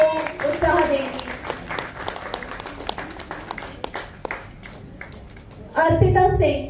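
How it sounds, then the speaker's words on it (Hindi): An audience at a summer workshop dance show claps at a fairly near distance, the clapping lively and uneven, while a voice speaks over it and swells toward the end. "प्लीज तालियां रुकनी नहीं चाहिए, आपकी तालियां ही इनको उत्साह देंगी."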